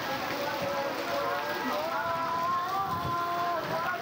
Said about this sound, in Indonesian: hujan parak-parak